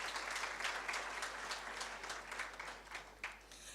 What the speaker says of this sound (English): So let's give them a round of applause for choosing this university.